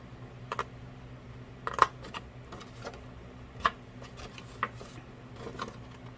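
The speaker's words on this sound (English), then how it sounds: "we're going to cut right on that line" Scissors or a blade cutting a rectangle out of card for a mask card holder, faint sparse snips and taps spaced a second or so apart in a quiet room.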